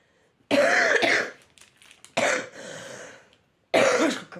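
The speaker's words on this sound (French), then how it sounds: "Je recommence à tousser, c'est horrible." Three harsh coughing bursts from one person, close and loud, separated by short silent gaps.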